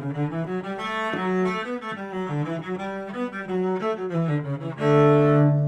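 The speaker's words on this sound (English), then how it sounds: "if I took a bluegrass tune, Whiskey Before Breakfast, it sounds like this." The bluegrass fiddle tune Whiskey Before Breakfast played on a bowed string instrument, a quick run of clear melodic notes in a steady reel rhythm, close and loud, ending on a held note with no talking.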